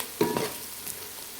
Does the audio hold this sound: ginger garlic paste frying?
yes